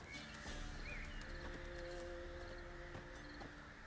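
A horse in The Witcher 3: Wild Hunt gives a short neigh over steady clip-clopping hooves and ambient game music, with no talk.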